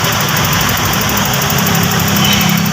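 A Toyota Revo gasoline engine idles with its headlights switched on, keeping a steady, close, continuous rumble with a faint rattling vibration and no break or stumble.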